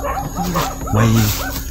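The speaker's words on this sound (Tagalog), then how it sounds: "Yan, yung aso nila." A dog barks and yips repeatedly amid a noisy outdoor background, with people talking nearby.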